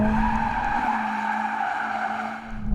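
Tires squeal in a long, steady skid as a 2020 Mercedes-AMG CLA 45 S slides sideways, loud and close, with engine noise underneath throughout.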